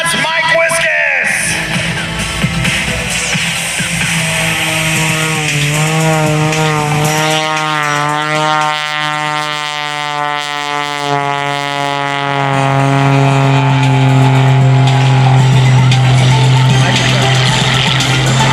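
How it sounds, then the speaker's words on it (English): An aerobatic airplane piloted by Mike Wiskus at the 2021 New York International Air Show roars loudly as its engine pitch swoops up and down with throttle changes, with a commentator's voice over it. "I love to listen to the sound of the engine as he plays with the throttle"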